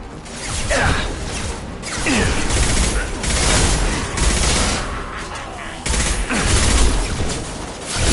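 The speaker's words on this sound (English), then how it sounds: "Taking fire!" A loud, sustained battle in Mass Effect 2 with bursts of rapid gunfire, impacts and whooshes layered densely for several seconds, with occasional combat voices underneath.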